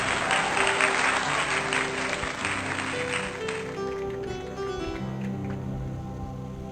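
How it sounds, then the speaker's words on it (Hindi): A church congregation claps to welcome the preacher at a Hindi Christian service, loud dense applause that fades out after a few seconds while sustained music tones carry on underneath. "हम सब लोग ताली दे के स्वागत करेंगे"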